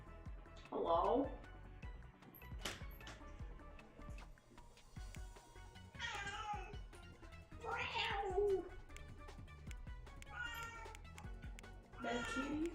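Cat meowing in a house, several drawn-out rising and falling meows spaced a few seconds apart, fairly close, with a person talking quietly between them.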